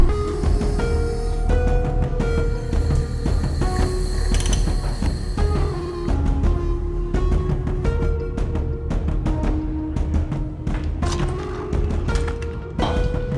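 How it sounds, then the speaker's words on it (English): A torque wrench ratchets with rapid repeated clicking while a Nissan GT-R engine's pistons are being worked on, the pawl rattling steadily and close by over about thirteen seconds, with metallic tool noise and no talking. "So the old torque wrench."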